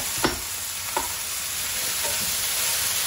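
Onions and peppers sizzle steadily in a pot while being sautéed for a Basque chicken and chorizo dish, a constant hiss broken by a few brief stirring scrapes, close and fairly quiet.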